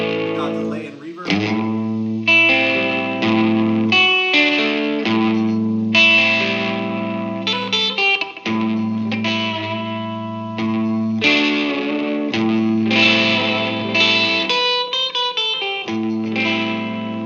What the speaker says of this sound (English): we got delay and reverb.